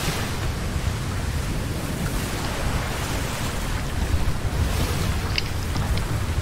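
Wind and sea surf rush steadily around a sailing ship at sea in the game ATLAS, a loud, continuous broadband roar of waves and gusting wind with no break.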